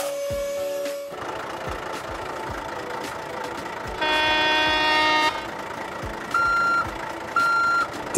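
A toy truck sounds loud, repeated electronic reversing beeps in short bursts, with a high tone at the start and clustered beeping bursts later, alongside small plastic clicks and knocks of play near the listener.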